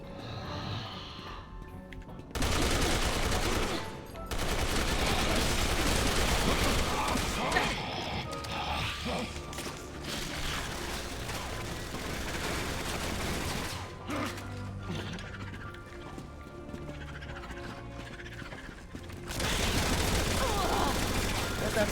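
Explosive bullets fire in the Resident Evil 6 video game, loud bursts of gunfire and crashing impacts in repeated volleys, with short quieter gaps between them.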